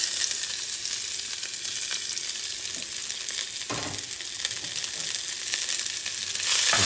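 Chopped onions sizzle and fry in hot chicken fat in a pot for a chicken stew, a steady crackling hiss with a brief stir partway through.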